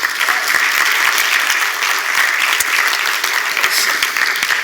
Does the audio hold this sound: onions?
no